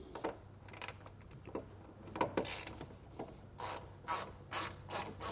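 A ratchet cranks out T30 Torx bolts to free a car headlight during a tow base plate install, giving close, crisp bursts of rapid pawl clicking separated by short pauses.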